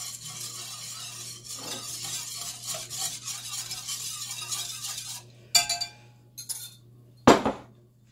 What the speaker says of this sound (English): Whisk our milk and sugar again.